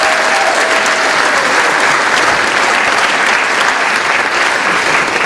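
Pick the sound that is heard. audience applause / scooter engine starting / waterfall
audience applause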